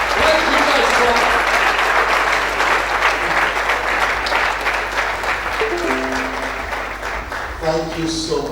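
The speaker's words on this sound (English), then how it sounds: "please can we stand up as we give Dr. Linus Okoro a warm, receptive round of applause" A standing audience at the GOTNI Emerging New Leaders Conference 2016 applauds Dr. Linus Okoro: loud, sustained, dense clapping from a large crowd that carries on steadily for several seconds before tapering slightly.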